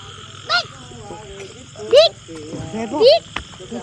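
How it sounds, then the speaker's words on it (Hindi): At night, frogs croak in short, loud bursts at irregular intervals over a steady chorus of insects, with voices talking faintly in between. "ये सिर्फ मेंढक है। वो आवाजें आ रही है ना"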